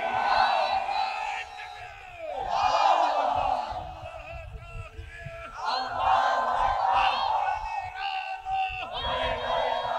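A large crowd at a religious sermon gathering in Bogura roars the takbir chant "Allahu Akbar" in loud, sustained unison waves, rising and falling in repeated bursts with a few whoops.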